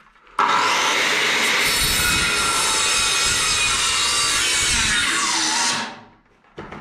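Power saw cutting through a wooden board, a loud steady rasping whine that starts abruptly, holds for about five seconds and then winds down, heard close with no talk.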